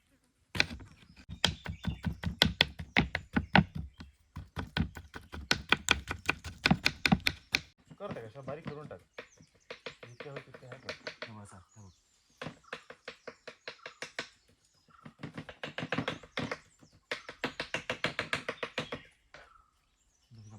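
A knife chops food finely on a board at a camp on a farmhouse in Konkan, in fast rapid bursts of sharp taps with short pauses between, close and moderately loud, with a few quiet voices.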